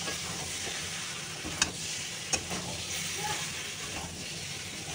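Pointed gourd and potato pieces sautéing in plenty of oil, a continuous soft sizzle and hiss with a couple of sharp clinks of a utensil, steady and close, no talking.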